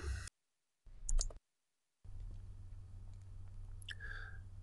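A few faint, sharp clicks of a computer mouse in a quiet room, with short gaps of silence and a soft background hiss.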